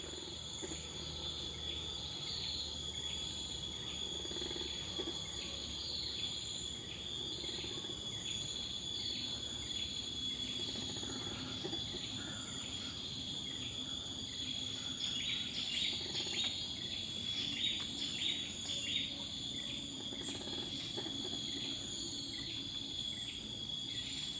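A nighttime chorus of insects and a calling forest gecko, steady high-pitched trilling with faint chirps, continuous and distant-sounding with no voices.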